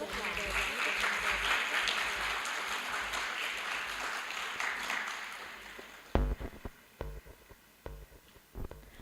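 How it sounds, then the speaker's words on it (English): After a cultural performance at a ceremony, an audience breaks into broad applause that fades over several seconds and trails off into scattered single claps. "Let's give them another round of applause."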